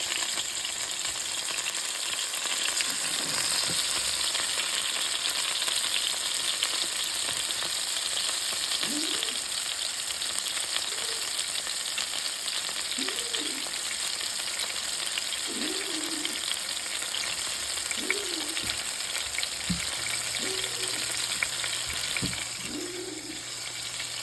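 A whiting fillet frying in a pan, a constant close crackling sizzle that runs for a long stretch with no speech, with a few faint tonal chirps in the background.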